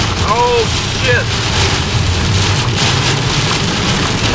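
Heavy rain and hail pound down during a storm chase in the rear-flank downdraft of a tornadic storm in northeast Texas, a dense, steady roar close by, with faint voices briefly audible underneath.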